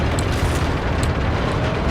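A tank gun fires in World of Tanks, a loud sustained rumbling roar with deep booming energy filling the short clip, no talk.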